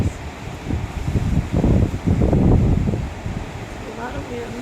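Strong wind from Hurricane Ian gusts and roars in swelling bursts, loud and close to the microphone, with a voice briefly heard over it.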